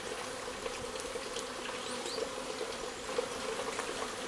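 A steady, close insect buzz of many honey bees at a hive hums continuously, with faint individual flight tones drifting over a low background murmur.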